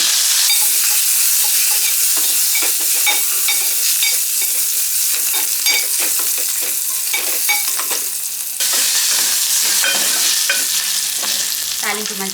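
Curry leaves fry in hot tempering oil for tamarind pulusu, making a loud, continuous crackling sizzle with dense spattering pops that carry on without pause.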